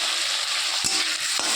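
Prawns fry in a pan with masala, giving a steady loud sizzle throughout, broken by two brief scraping stirs of the spoon, with no talking.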